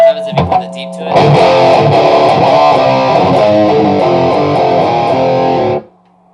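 Heavy distorted guitar through a Bogner Alchemist amp head with the deep switch on, a few short muted stabs followed by a loud, thick, sustained wall of chords that ends abruptly.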